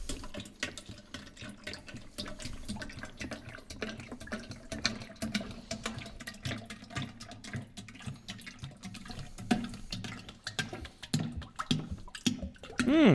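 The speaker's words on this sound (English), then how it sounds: "Let's pour it into the container." Motor oil poured from a 10-liter jug into a container during a car oil change on a lift, a steady close liquid gurgle and splash running throughout with small uneven surges.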